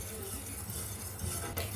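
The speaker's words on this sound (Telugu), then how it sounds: "ఈ గిన్నెని స్టవ్ మీద పెట్టేయండి దగ్గరుండి మరి కలుపుకుంటా క్రీమును తయారు చేసుకోండి" A spoon stirring cream in a pot on the stove over low heat, with a soft steady scraping and a faint clink near the end, quiet and close.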